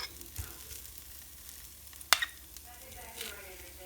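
Masala dosa sizzling and frying in sesame oil on a hot pan, a steady soft crackle with a sharp clatter midway.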